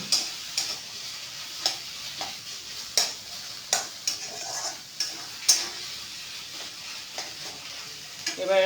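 A paneer thecha mixture sizzles in a pan under a soft continuous hiss, punctuated by a steady series of distinct spatula taps and scrapes as it is stirred.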